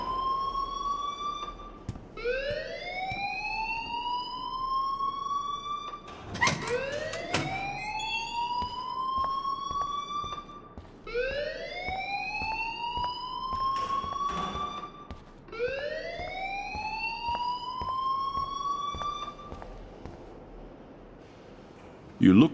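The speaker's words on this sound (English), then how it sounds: "please turn off that alarm since that's your job" A fire alarm in the video game Life is Strange wails in repeated rising siren sweeps, loud and continuous, with a few clattering noises between the cycles.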